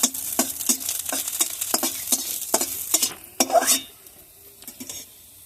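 Onion frying in a pan, softening, sizzles steadily while a spoon scrapes and stirs in quick repeated strokes, then the stirring stops and the sizzle quiets for the last couple of seconds; close and clear, no talking.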